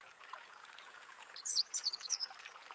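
AI-generated audio: birds chirp in short bright bursts over a soft, continuous rushing of flowing river water, the calls clustering in the middle of the clip.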